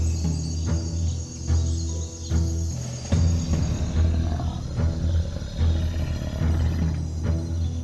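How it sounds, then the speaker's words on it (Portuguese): A lion roars repeatedly in a savanna setting where hyenas hunt it, deep rumbling calls rising and falling over steady insect chirping, loud and close with no voices. "Ele rugiu para afirmar seu poder"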